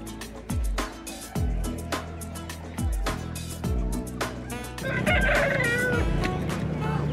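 Chickens cluck and squawk repeatedly at a busy, noisy chicken market in Balarampur, with occasional louder bursts and a rooster-like call near the end.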